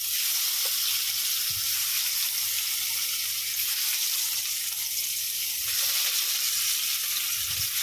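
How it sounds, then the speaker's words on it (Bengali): Paneer sizzles steadily in hot oil with turmeric, a continuous bright hiss at close range with a few soft knocks from the pan and no talking. "এখানে পনির ভাজবো বলে তেলটা বসিয়ে দিয়েছি, তেলটা গরমও হয়ে গেছে। পনিরগুলো দিয়ে দিই আস্তে আস্তে।"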